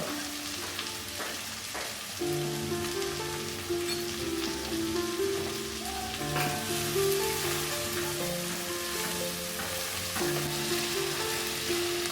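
Tomatoes and green chillies frying in a pan and being stirred, a continuous crackling sizzle with spatula scrapes, under sustained background music.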